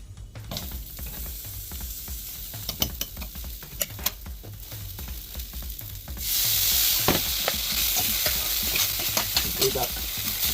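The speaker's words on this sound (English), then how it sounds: "So now we're going to drop these babies in here." Green onions sizzle and fry in a hot pan beside a resting steak, with a steady crackling hiss that swells louder about two-thirds through, plus scattered stirring scrapes and clicks up close.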